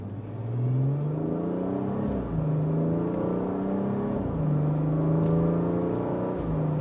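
A BMW 340i pulls away from a standstill at light throttle, its engine climbing through the gears in a smooth, steady rise with brief dips at each upshift, heard from inside the cabin.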